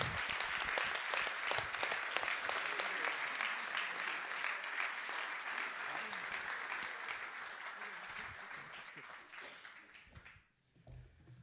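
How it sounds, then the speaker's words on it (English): An audience applauds Rudi Vranckx at an honorary doctorate ceremony with sustained, dense clapping that rolls on for about ten seconds before tapering off sharply near the end. "Give a big burst of applause for Rudi Vranckx."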